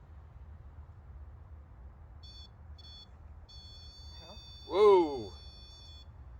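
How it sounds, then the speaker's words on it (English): Electronic beeps from a REM pod ghost-hunting device in a graveyard at night, a few short steady tones in separate bursts, followed by a loud startled voice exclaiming. "trigger our equipment and make our REM pod go off"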